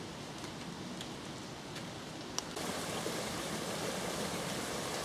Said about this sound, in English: Gurgling of a brook.